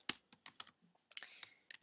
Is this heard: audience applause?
no